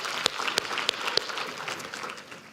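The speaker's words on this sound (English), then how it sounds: "Let's give them a round of applause" An audience at a conference plenary applauds steadily, a dense wash of many hands clapping at moderate volume with a few sharper claps standing out near the start.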